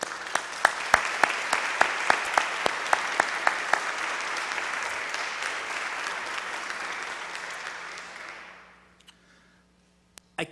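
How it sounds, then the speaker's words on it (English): Attendees at the Maine Conference UCC annual meeting applaud the ministry and operations staff, a sustained crowd clapping with a few sharp nearby claps standing out, gradually fading away near the end into quiet. "Would you take a moment joining me in applauding them?"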